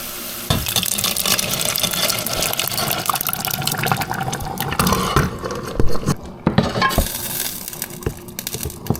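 Mutton gravy poured into a pan of browned chickpeas and mutton, a wet splashing pour with gurgles and stirring sloshes, loud and close.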